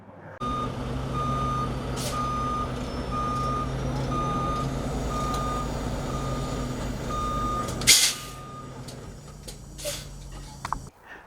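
Semi truck idling and moving to slide the trailer tandems during a pre-trip inspection, with a steady low engine rumble, intermittent reversing beeps throughout and a sharp air-brake hiss near the end, heard up close.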